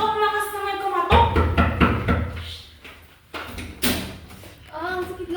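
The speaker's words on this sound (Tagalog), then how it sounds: "ang lakas naman kumatok" Loud knocks on a door at home, a cluster of sharp hard thumps followed by later single bangs, with voices and other household noise around them.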